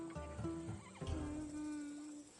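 A horse whinnies in the video game Assassin's Creed Odyssey, a clear neigh near the start followed by a second call around the middle, with soft hoof clops and ambient background throughout.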